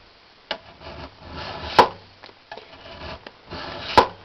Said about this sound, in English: Now, you hear that sound? That is a sharp file.